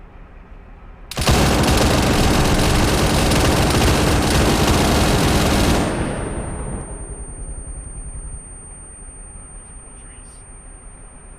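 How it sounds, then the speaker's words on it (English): Quad anti-aircraft cannon in a military video game firing a long, loud, sustained burst of rapid shots for several seconds, then trailing off into a fading rumble. "Yeah, that thing basically is just a cannon, just times 4."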